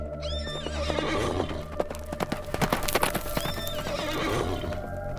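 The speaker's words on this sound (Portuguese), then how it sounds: "Seguiu correndo, relinchando e soprando mata dentro." A galloping animal runs with rapid clip-clop hoofbeats and repeated neighing and snorting, loud and close over a steady low drone, accompanying a dramatized Brazilian folk tale of a headless mule.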